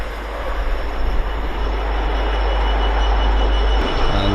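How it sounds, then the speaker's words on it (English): Azuma express train 80011 flying through a station on the East Coast Main Line, a loud sustained rumble and rush of wheels and air, close and continuous. "Another Azuma flying through with 80011."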